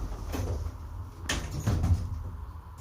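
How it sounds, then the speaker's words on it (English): Hotel lift doors slide shut with a muffled mechanical rumble and a couple of soft knocks, set against steady background hum inside the lift. "Please mind the doors. Doors closing."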